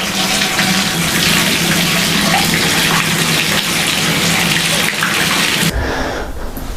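Water gushes steadily from a Delta tub faucet after cartridge replacement, a loud continuous rushing that cuts off abruptly near the end.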